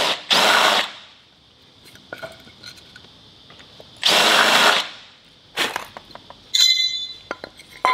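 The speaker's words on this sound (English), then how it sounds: "I'm just going to countersink these holes so the bugle heads don't sit proud" A power drill countersinks bolt holes in a metal boat stand, giving two loud sustained whirring bursts separated by quieter clatter and handling clinks, then a third burst and sharper metallic rattles near the end.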